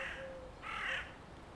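A crow in a wildlife garden with bird feeders hung on a tree gives two hoarse caws, moderately distant, over faint outdoor background.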